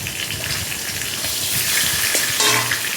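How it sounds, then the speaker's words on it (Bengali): Fish head frying in oil in a pan, a steady close sizzle with crackling that continues without any talk. "এদিকে মাছের মাথাটাও ভাজা করলাম"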